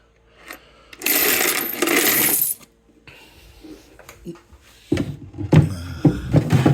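Coins clatter and rattle as they drop inside a JPM MPS2 Switchback fruit machine, a loud metallic shower in two bursts separated by quieter handling clinks.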